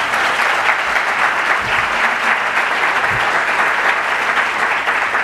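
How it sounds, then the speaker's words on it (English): A conference audience applauds steadily, a dense, even wash of many hands clapping at close range and sustained without pause. "she deserves our applause"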